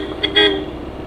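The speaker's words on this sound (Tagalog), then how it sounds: "So yun, ayos nating busina." A car horn gives two short honks close by, the second slightly longer, with engine hum underneath.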